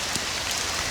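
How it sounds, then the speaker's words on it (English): Steady, heavy rain falling over a tilapia pond, a dense, unbroken hiss of drops across all pitches with no gaps, close and constant for the whole moment. "It's been raining steadily for about the last 4 hours."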